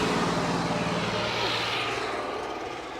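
A modified New Holland 5620 CRDi tractor runs in third medium gear, its diesel engine giving a loud, steady, close-up drone that fades slightly toward the end.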